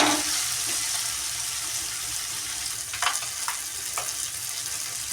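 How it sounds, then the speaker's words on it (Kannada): Tomato and onion fry in a pan for coconut rice, a steady close sizzle with a few soft clicks of stirring toward the end. "ಟೊಮೊಟೊ, ಈರುಳ್ಳಿ ಎಲ್ಲ ಚೆನ್ನಾಗಿ ಫ್ರೈ ಆಗುತ್ತೆ."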